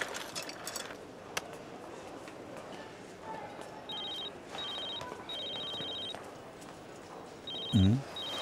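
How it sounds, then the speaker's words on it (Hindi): A telephone rings in a room, giving repeated electronic trills in several short bursts that are moderately loud over a quiet background, ending with a thump near the end. "फोन बज रहा है।"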